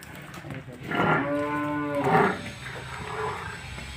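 A water buffalo lets out two long, deep moos in a row, loud and close, with faint background noise between the calls.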